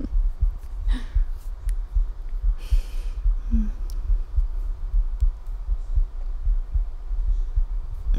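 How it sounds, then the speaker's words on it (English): Slow, soft heartbeat thumps heard close up as if through a chest, a steady low pulse under faint rustling and breathing. "I know how much you love listening to my heartbeat."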